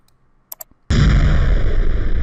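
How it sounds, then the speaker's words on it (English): An explosion sound effect loaded into a game project fires with a sudden loud blast and then a sustained roaring rumble, preceded by a few faint clicks. "Yep, that's an explosion."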